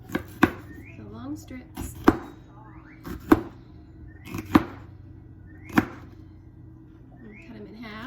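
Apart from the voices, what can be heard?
knife chopping vegetables on a plate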